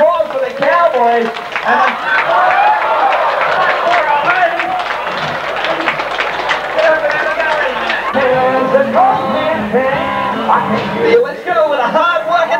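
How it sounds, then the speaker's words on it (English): At the 1993 National Rodeo Finals, a crowd applauds the cowboys with steady, loud clapping and cheering that lasts throughout, while an announcer's amplified voice talks over it. "Ladies and gentlemen, how about a big round of applause for the Cowboys?"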